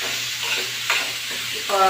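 Bottle gourd pieces stirred with curd in a pan for potlakaya perugu pachadi, a brief close scrape and stir over a light sizzle.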